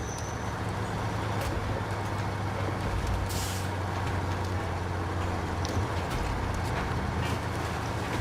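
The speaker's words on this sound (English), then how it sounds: "You can hear the engine and the engine output, that it is constant." Steady drone of a truck engine in the video game Snowrunner, driving through a burned forest in Ontario, Canada, holding constant output with a low hum and occasional hiss and clank.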